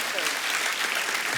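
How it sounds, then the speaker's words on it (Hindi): A studio audience at a comedy talk show bursts into loud, dense applause, a continuous wash of many clapping hands that stays close and steady throughout. "उसके लिए जोरदार ताली पाजी"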